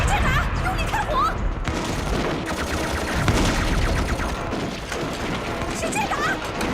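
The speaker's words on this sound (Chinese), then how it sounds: "用力开火" Rapid bursts of gunfire in a war film battle scene, dense and continuous, with clattering mechanical rattles and shouting voices mixed in throughout.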